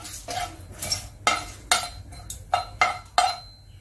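Cumin seeds, dried chillies and bay leaves being dry-roasted in a wok make a series of sharp scraping and clinking strokes as a metal spatula stirs them, about eight distinct hits at an uneven rhythm, close and fairly loud.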